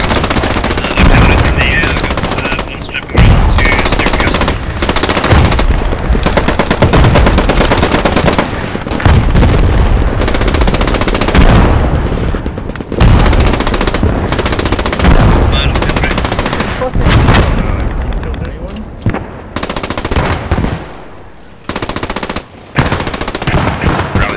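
Machine gun fire in the online war game Post Scriptum, dense, loud and nearly unbroken bursts of rapid shots close by, with voices talking over the din.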